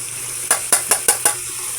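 Carrots and potatoes drop into a pan of sizzling ground meat for giniling, marked by five quick, sharp clinks and scrapes in a row over a faint steady sizzle, with no talking.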